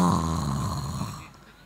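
A man snores indoors before dawn prayer, a single drawn-out, rumbling breath that starts loud and close and slowly fades away.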